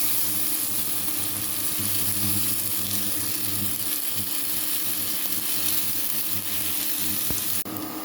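Food fries in a pan with a loud, steady sizzle and crackle that runs unbroken until it drops off abruptly near the end, with no speech.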